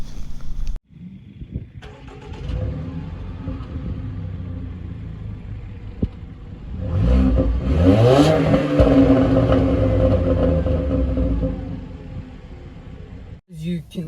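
Jaguar XE R-Sport with a 2-litre four-cylinder turbo engine, driving: a steady low engine rumble that swells into a louder accelerating pass midway, then settles, continuous throughout with no talk.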